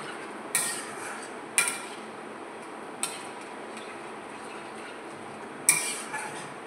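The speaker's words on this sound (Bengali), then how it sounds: "দইটা দিয়ে কিন্তু আমি নাড়ছি" Whisked yogurt being stirred into a prawn curry in a pan, with four separate sharp clinks of a utensil against the metal spaced over quiet background, two of them trailing brief scrapes.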